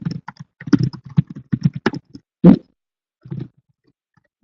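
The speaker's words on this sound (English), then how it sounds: "I will just type that into this now" Close, loud typing on a computer keyboard in rapid uneven bursts as an email address is entered, then a pause and a few final keystrokes.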